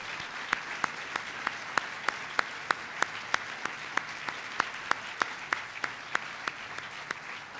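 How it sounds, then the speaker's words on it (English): Applause from an audience honoring business leaders standing at a speech on school internet, heard as a steady wash of clapping with sharp individual claps standing out, moderately loud and without talk. "Let's give them a big round of applause"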